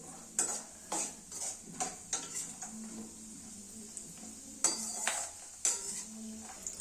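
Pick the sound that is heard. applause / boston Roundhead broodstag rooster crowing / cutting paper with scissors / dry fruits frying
dry fruits frying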